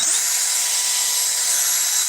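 Power drill with a dead-man trigger held at low speed, a steady high-pitched whine that runs unbroken and fairly loud, with no voices.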